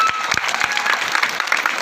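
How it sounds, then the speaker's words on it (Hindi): An audience at an outdoor statue unveiling ceremony applauds with dense, steady clapping, loud and near, with a few sharper claps standing out. "आप उनका एक बार इनके साहस के लिए ताली बजा करके,"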